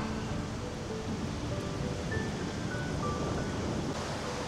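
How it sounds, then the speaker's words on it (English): Continuous broad wash of surf rolling onto a large, popular beach in Southeast Asia, steady and moderately loud with faint wind, and no talking. "This beach is like the most popular beach, one of the most popular beaches in Southeast Asia"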